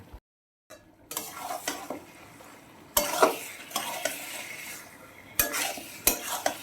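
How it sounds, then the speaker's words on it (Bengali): Mutton with ground spices stir-fries in a pan: soft sizzling under repeated scraping stirs and sharp metallic clanks of a utensil against the pan, close and intermittent. "একটু এরকম নাড়িয়ে চাড়িয়ে কষিয়ে নেব"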